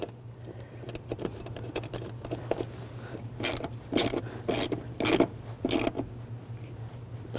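Bolt being threaded and turned by hand at the rear wheel of a 2003-2008 Subaru Forester during an ABS wheel speed sensor replacement: a series of short metallic clicks and scrapes, close by, over a steady low hum.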